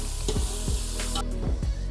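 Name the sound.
ginger paste and turmeric frying and being stirred in pan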